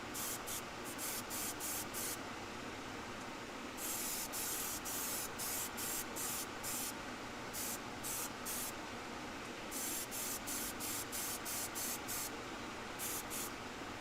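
An airbrush spraying a second coat of Vallejo red paint gives a continuous fine hiss broken into repeated short bursts of stronger spray, each lasting a fraction of a second, with a few longer passes, close and alone.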